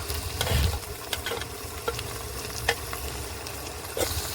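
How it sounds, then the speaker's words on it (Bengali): Ginger-garlic paste, ground coriander, cumin and dried chilli paste with chopped tomatoes sautéed over fried onions in a pan, a close, even sizzle broken by several sharp spoon scrapes and taps. "সবকিছু একসঙ্গে ভালো করে কষিয়ে নেব"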